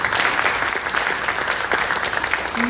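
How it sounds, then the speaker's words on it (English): A school audience of families at a high school senior orientation claps steadily and fairly loudly in a hall, a dense, even wash of applause lasting throughout. "Can we get a big round of applause to Ms. Ojima?"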